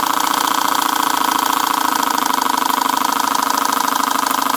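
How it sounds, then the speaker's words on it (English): A Boucher S62 steam engine fed by a CF2 boiler runs slowed down, a steady, close mechanical chugging with a fast, even beat and constant whirring hum throughout. "that's the way how to balance your steam engine"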